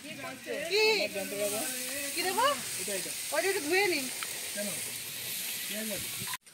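Food sizzles in a pan over a campsite cooking fire, a steady broadband hiss running beneath several people chatting close by throughout.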